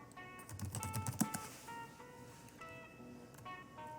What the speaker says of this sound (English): We can either type in our topic here